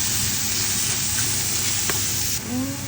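Onion and garlic fry in a pan in a steady, loud, close sizzle that carries on unbroken, with a faint clink or two of a utensil and no talk.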